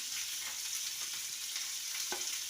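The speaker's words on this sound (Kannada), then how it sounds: "ಕಾಜು ಹಾಕ್ತಾ ಇದ್ದೇನೆ ಬೆಳ್ಳುಳ್ಳಿ ಹಾಕ್ತಾ ಇದ್ದೇನೆ" Cashews and garlic fry in a pan of hot oil, a steady close sizzle with faint stirring scrapes and no voices.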